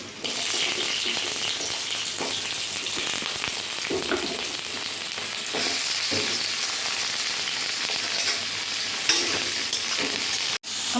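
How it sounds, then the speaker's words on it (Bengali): Chopped potato, pumpkin and eggplant fry in a pan, giving a loud continuous close sizzle with stirring scrapes throughout. It cuts off abruptly near the end. "তারপর কেটে রাখা সবজিগুলো একে একে একটু হালকা করে ভেজে নেব।"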